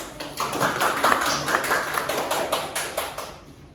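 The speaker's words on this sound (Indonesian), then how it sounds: "Tepuk tangan dulu." A classroom of students claps together, a brisk burst of many hands at close range that holds steady for a few seconds and then fades out.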